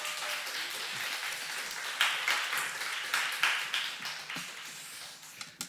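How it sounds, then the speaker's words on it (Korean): A church youth congregation claps to welcome a guest evangelist to the front, a steady mid-distance patter of many hands with a few sharper claps standing out before it fades. "큰 박수로 환영하겠습니다"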